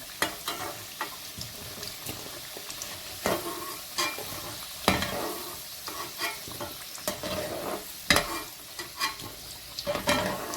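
Potato pieces frying in oil for degi aloo gobhi, with a continuous sizzle broken by frequent scraping stir strokes at an uneven pace, close by and moderately loud.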